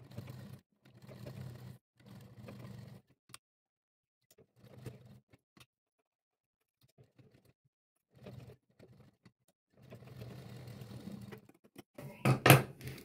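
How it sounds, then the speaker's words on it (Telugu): A sewing machine stitches piping onto canvas cloth in short, intermittent runs separated by quiet pauses, ending with a louder, sharper burst of mechanical clatter. "ఇలా సైడ్కి అనుకుంటూ స్టిచ్ చేసుకోవాలి."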